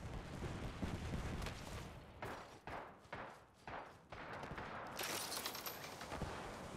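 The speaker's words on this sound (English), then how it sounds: "Stand back, knuckle cluster's firing." Knuckle cluster incendiary going off in Apex Legends, a string of loud overlapping bursts and thumps with brief gaps, ending in a sustained hissing, crackling wash.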